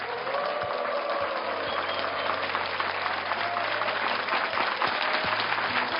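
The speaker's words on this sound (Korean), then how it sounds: "아주 따뜻한 박수로 환호성으로 맞이해 주시기 바랍니다." A church congregation applauds warmly, dense sustained clapping from a large crowd filling the room, steady and loud throughout with a low hum beneath.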